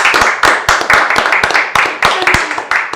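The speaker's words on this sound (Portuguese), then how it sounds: "Uma salva de palmas." Loud, close round of clapping from a small group during a podcast-style talk show recording, with distinct sharp hand claps in an uneven rhythm, rising and falling in quick bursts.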